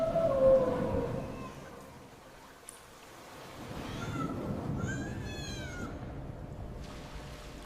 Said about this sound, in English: Oh, look! A poor little cat is trapped in the net!